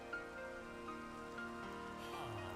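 Steady rain in the Minecraft video game falls as a soft, continuous patter over tonal game music, holding at an even level throughout with no talk.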